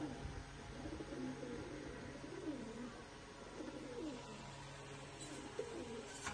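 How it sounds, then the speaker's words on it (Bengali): A pigeon coos softly in repeated low, rolling phrases, faint and somewhat distant against a steady background hum, with no talking. "সর্বশেষ একটি কবুতর"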